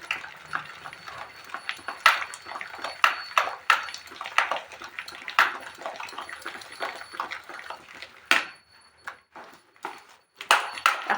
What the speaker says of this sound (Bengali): এটা অনেকক্ষণ ফেটাতে হবে